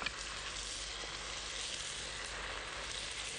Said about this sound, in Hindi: और अब इसमें हम डालेंगे सूखे मसाले,